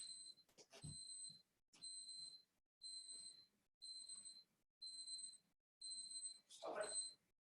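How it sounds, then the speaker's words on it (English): Repeated electronic beeping somewhere in a house, seven evenly spaced bursts of high double-toned beeps about a second apart, fairly loud and close, with a brief voice or noise near the end. "there is something beeping and I don't know why"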